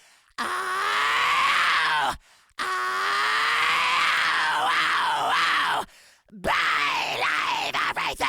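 A vocalist demonstrates a fry scream in three long sustained bursts, each starting from a cleaner note that roughens into a gritty, distorted, growling scream, loud and close with short silences between.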